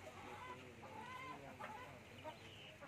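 Chickens cluck steadily at a poultry farm near Tirunelveli, a close, continuous chorus of overlapping hens with no pauses.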